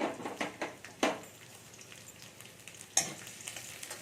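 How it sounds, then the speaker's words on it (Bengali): Finely chopped garlic fries in hot oil with a soft, faint sizzle, broken by a few sharp stirring scrapes and clinks of a utensil against the pan, close by, with no talking. "রসুনটাকে আমি একটু হালকা ভেজে নিচ্ছি"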